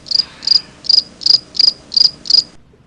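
Seven evenly spaced cricket chirps pulse in a steady rhythm, loud and close, then stop abruptly into silence.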